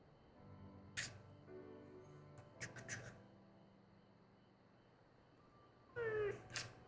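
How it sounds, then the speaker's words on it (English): A pet cat meows indoors, several short meows spaced apart, close and fairly clear against a quiet room, with a louder drawn-out meow near the end. "Here's your pet the stream cat"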